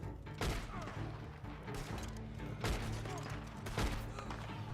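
Shotgun blasts in the Red Dead Redemption video game, several heavy booming shots at irregular intervals over a dense, noisy game background.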